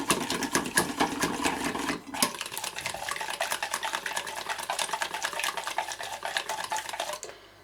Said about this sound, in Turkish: Yumurtamı çırpıyorum öncelikle. Güzelce karıştıralım.